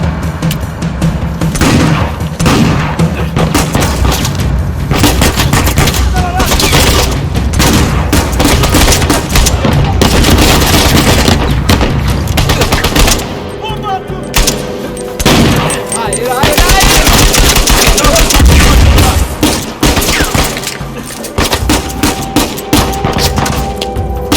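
Loud, dense gunfire in the Uncharted 4 video game, with rapid bursts and heavy booms that continue almost without a break, while voices talk underneath.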